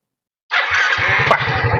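A motorbike or small car engine fires up with the starter in a roadside shop setting, catching at once into a steady idle with rapid low pulsing, close and fairly loud.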